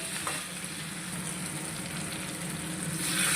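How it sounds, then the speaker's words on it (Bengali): Hot boiled water goes into a pan of frying duck egg and cauliflower masala, setting off a steady, close sizzle that swells louder toward the end. "দিয়ে দিচ্ছি ফুটিয়ে রাখা সেই গরম জলটা"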